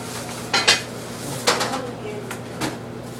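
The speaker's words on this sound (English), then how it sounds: "So now I gotta do the dishes to start cooking." Dishes and cutlery clatter in a home kitchen sink as they are washed, several sharp clinks and knocks spaced irregularly over a low steady background hum.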